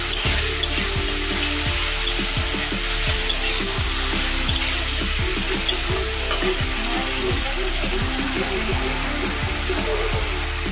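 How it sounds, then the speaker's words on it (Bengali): Tomato paste fries steadily in a pan for a Bengali boal fish tel jhal curry, with a continuous loud sizzle under repeated rhythmic scraping strokes of a spatula or spoon stirring it. "এর মধ্যে দেব টমেটো পেস্ট, ভালো করে এটা কষিয়ে নেব।"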